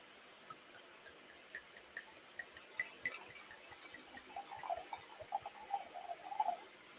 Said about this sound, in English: So then we're gonna do the first pour